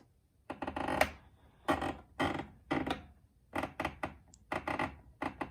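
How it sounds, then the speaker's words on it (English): A sewing machine's needle position dial is turned, giving a series of dry creaks and mechanical clicks in irregular bursts, close and fairly quiet. "as I move this, the needle will be moving left and right"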